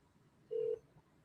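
A single short telephone dialing beep, one steady tone lasting about a quarter second, faint and alone against quiet background.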